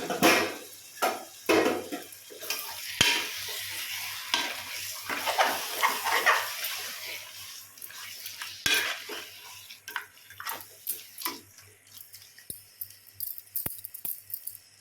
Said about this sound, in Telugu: మటన్ అనమాట కడిగి ఉంచాను కదా వేసేద్దాము తాలింపులో వేసేసి అంతా ఒకసారి కలుపుకోవాలి మనం